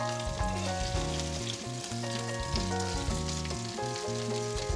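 Crab cakes fry in a pan after being flipped, giving a steady bright sizzle throughout, while a droning tonal hum runs underneath and no one speaks.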